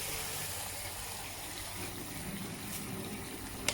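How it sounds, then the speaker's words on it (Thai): Water pours steadily into a stone mortar to rinse it while Thai stir-fried crocodile meat is being cooked, a soft, continuous, faint gush and trickle with no voices. "น้ำล้างครกค่ะ"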